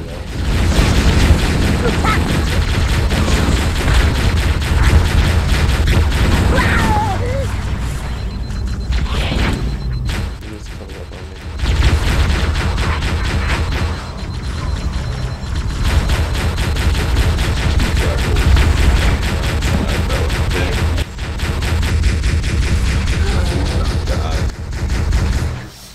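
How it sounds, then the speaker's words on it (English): Covering gunfire in the Halo video game: dense, loud, continuous volleys of shots and booming impacts, broken by two short gaps before the shooting resumes at full intensity. "Covering fire as best I can."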